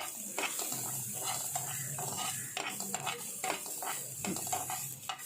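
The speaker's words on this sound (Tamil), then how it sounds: "இதை ஒரு சேர நல்லா கரண்டி வச்சு எல்லா சைடும் படுற மாதிரி நல்லா வறுத்தெடுத்துக்கலாம்" Onions with tomato sautéing in a pan while a ladle stirs and scrapes, giving irregular clinks and scrapes over a soft, continuous sizzle, close up with no talk.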